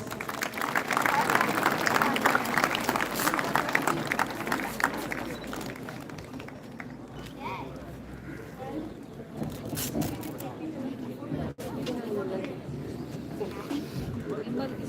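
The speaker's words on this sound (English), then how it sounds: "A round of applause." Applause breaks out at a felicitation during a live community run event, loud at first then thinning into scattered claps amid crowd murmur and outdoor voices.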